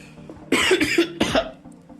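A person coughs in a few harsh, close bursts, two quick coughs followed by another pair, over a quiet indoor background.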